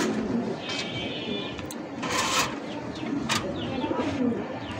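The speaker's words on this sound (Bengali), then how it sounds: "একদম দেশি কবুতর" Domestic pigeons cooing close by, soft repeated throaty coos layered over a busy background, with a few brighter noisy bursts between calls.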